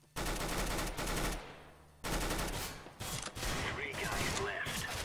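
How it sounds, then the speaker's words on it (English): Automatic rifle fire in the game CS:GO, with long bursts of rapid gunshots, loud and close, broken by a short pause, then more shooting with a voice talking faintly underneath. "The gun is powerful, it pulls up, so you can put your cursor down as you shoot."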